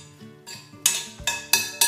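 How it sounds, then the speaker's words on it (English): A spoon stirring a bowl of pineapple and melon fruit salad, giving several sharp clinks against the bowl, close and clear, with faint tonal sounds underneath and no talk. "give it a good stir"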